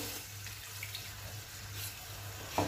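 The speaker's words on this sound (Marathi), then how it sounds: "तेच आपण मसाला दळलेलं मिक्सरचं भांड घेतलंय त्यामधलंच मी पाणी घातलेलं आहे" Water poured from a mixer jar into a cooking pan flows steadily at a low level, a quiet running stream, ending in a small clatter.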